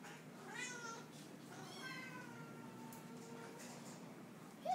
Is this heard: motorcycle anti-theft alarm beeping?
no